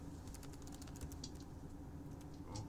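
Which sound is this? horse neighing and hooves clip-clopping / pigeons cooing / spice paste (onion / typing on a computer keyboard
typing on a computer keyboard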